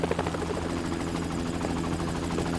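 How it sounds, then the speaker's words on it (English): A helicopter in the video game GTA V, its rotor chopping in a rapid, even pulse over a steady turbine whine, loud and continuous for a couple of seconds. "We called in the chopper."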